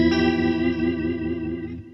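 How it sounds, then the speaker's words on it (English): Electric guitar played through an Electro Harmonix Lester K rotary speaker pedal, a rich sustained chord with swirling, warbling chorus-like modulation, loud and close with no talking. "lovely fat rotary speaker sounds."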